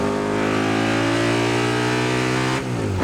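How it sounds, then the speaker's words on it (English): A car fitted with a Harley motorcycle engine and a sequential gearbox revs loudly and steadily while driving, its close, continuous engine drone rising in pitch before dipping near the end. "That Harley motor sounds amazing."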